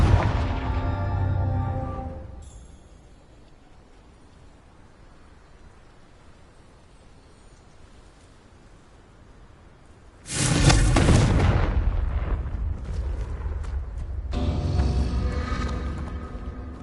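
A Confringo fire spell from a video game erupts in a loud booming blast with a roaring burst, then a quieter lull before another heavy explosive rumble and crackle, with no talk.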